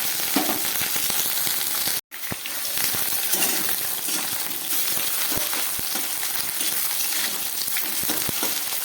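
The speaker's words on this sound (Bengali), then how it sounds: "একটু ভেজে নিচ্ছি আলু বেগুনটাকে।" Potato and eggplant pieces frying in a pan, a steady close sizzle and crackle that runs throughout with one brief gap near the start.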